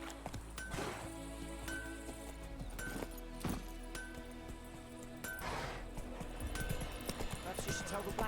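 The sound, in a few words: horse hooves in a video game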